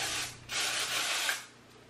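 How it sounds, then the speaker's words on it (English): Hairspray hisses from an aerosol can onto a pixie cut in two short close bursts, the second slightly longer, then stops. "spraying a little bit because my hair has the tendency to just get flat"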